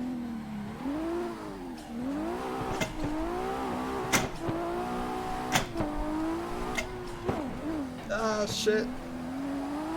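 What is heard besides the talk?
race car driving in video game Assetto Corsa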